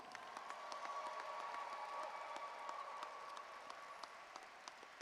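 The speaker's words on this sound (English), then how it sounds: "Let's give our 2025 Davis graduates another round of applause." Faint, distant applause from a graduation audience at a high school ceremony, sparse individual claps rising above a soft wash of many hands throughout, with no voices on top.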